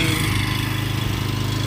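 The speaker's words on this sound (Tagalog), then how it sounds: "Malakas yung makina ng generator." A loud generator engine at an outdoor food area runs with a steady, dense drone and constant low rumble, close by, filling the whole moment without breaks.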